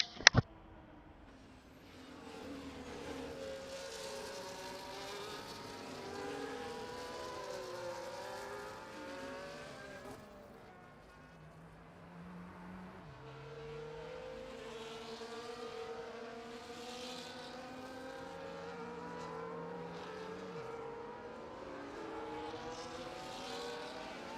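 Race cars in the F1 24 video game trail the Mercedes safety car, a faint, steady pack of engine drones with shifting pitches. A sharp click opens the stretch, and no voices are heard.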